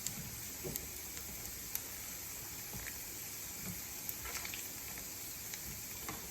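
Plantain slices fry in hot oil in a pan, giving a steady, soft sizzle with occasional faint pops and spits throughout, close by and with no talking.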